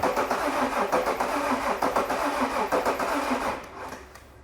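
An Alfa Romeo 147 GTA engine, just rebuilt, cranks over with steady rhythmic pulsing for several seconds, then the sound drops away near the end without settling into a clear idle.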